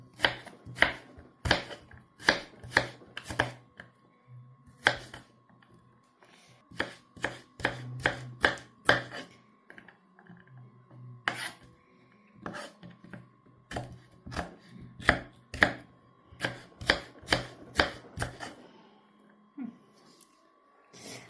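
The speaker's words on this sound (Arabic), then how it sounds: "هلا مثل هاي البصلة، بس انا بقطعها من هون من النص" A knife chops an onion on a cutting board in quick clusters of sharp, close knocks, pausing between bursts, with a faint hum underneath.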